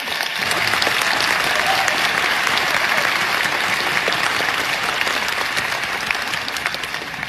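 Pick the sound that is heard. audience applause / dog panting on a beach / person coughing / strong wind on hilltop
audience applause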